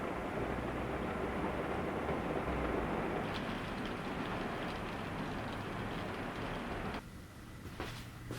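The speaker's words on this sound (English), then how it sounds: "It is absolutely lashing it down today." Heavy rain pouring down outdoors, a dense steady hiss and patter that stays loud and continuous, then thins briefly near the end with a few sharper splashes.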